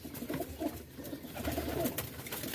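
Pigeon cooing close by, soft throaty coos repeating in short bursts against a muffled background, with no voices.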